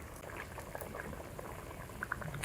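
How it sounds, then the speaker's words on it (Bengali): A pot of katla fish curry broth with radish bubbles at a gentle boil, with soft, irregular pops and burbles over a low simmering hiss, quiet and close. "ঝোল ফুটে গেছে তরকারি জাল হয়ে গেছে"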